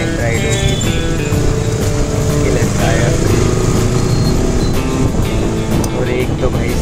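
Dense night road traffic heard from a KTM RC 200 motorcycle, a loud continuous rumble of engines and wind noise with honks and a large container truck nearby, steady throughout.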